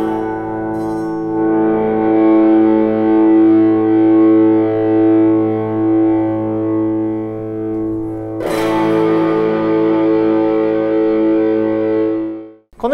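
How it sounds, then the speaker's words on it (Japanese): Electric guitar played through the amp's drive channel as the gain knob is turned up, a sustained distorted chord swelling thicker and louder, re-struck midway and ringing on alone with no talk. "ドライブチャンネルにはゲインというつまみがあり、これで歪みの深さを調整します。"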